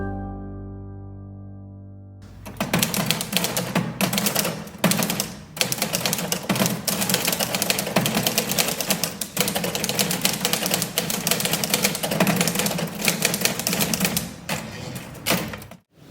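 Typing on a mechanical typewriter, dense clattering keystrokes and thumps at a steady, busy rhythm, loud and close, starting after a short lead-in with a low hum and continuing for about fourteen seconds, with no talk.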